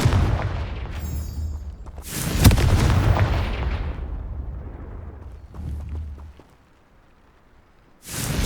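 A Confringo fire spell explodes in Hogwarts Legacy with several deep booming blasts and rumbling bursts that decay between hits, then a quiet pause before another sharp blast.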